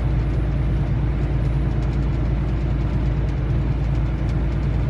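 Heavy truck on the road, steady low engine rumble and drivetrain drone filling the cab, continuous and fairly loud with no breaks.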